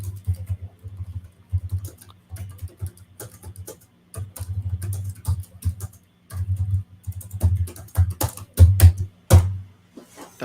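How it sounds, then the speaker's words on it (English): Hard, aggressive typing on a computer keyboard in a severe weather broadcast studio, a dense run of loud clacking keystrokes in bursts with brief pauses, over a low steady hum. "Aggressive typing."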